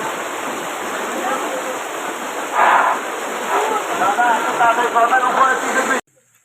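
A waterfall in the hills of Bandarban gives a steady, loud, broadband roar up close, with faint voices briefly over it before the sound cuts off abruptly.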